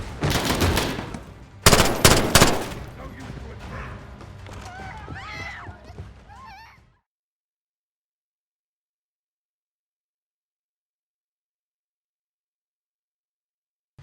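Machine gun fire in the video game Modern Warfare: loud, dense bursts of rapid automatic shots with game sounds and shouting voices, then abrupt silence for the second half.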